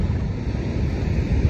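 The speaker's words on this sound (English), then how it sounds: "The wind is just too bad, and I forgot my" Strong wind at Bullards Beach State Park in Bandon, Oregon, buffets an unshielded microphone, a loud, continuous rumbling roar with surf mixed in.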